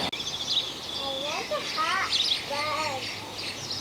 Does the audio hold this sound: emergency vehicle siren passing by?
no